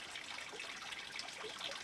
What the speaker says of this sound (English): you squeeze the bulb, squeeze it, and then you dip it under the water